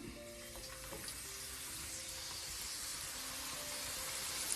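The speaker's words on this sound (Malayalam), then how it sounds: "നല്ല കനം കുറഞ്ഞ അരിഞ്ഞ് നമുക്കിതിനെ നന്നായിട്ടൊന്ന് വറുത്തെടുക്കാം." A steady, soft sizzle of thinly sliced onions frying in oil hisses on continuously, fairly quiet and close, with faint clinks and no voices.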